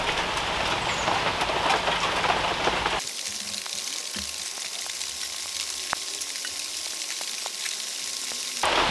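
Steady rain falling outdoors at a brick rocket stove build site, a dense hiss that loudens for the first three seconds then settles into a softer patter with scattered drops and taps.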